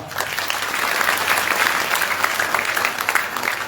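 A large audience at a Hindu monastery's week-long Shiva chanting gathering claps loudly and steadily, a dense, even wall of applause lasting several seconds.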